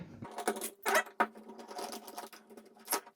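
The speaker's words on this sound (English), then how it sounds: "There'll be two screws you can just undo" Two screws being undone from the faceplate of a one-way domestic light switch with a screwdriver, giving close, faint scraping, clicking and rattling bursts with short gaps between them.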